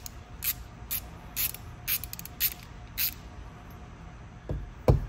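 Thin-wall deep socket on a ratchet removing a fitting from the fuel system of an Innocenti Spyder: a series of about eight short, crisp ratcheting clicks at a steady pace, close up, followed by a couple of duller knocks near the end.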